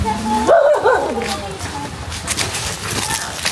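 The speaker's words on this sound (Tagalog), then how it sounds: "iwas lang kayo sa aso ha." A dog barks a few times close by outdoors near a banana grove in the Philippines, the bark overlapping with people talking and background noise.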